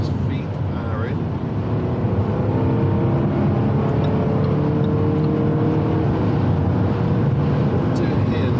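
A Jaguar F-Type SVR's engine drones and builds on a race track, a loud continuous rising roar heard from inside the car while a driver talks throughout.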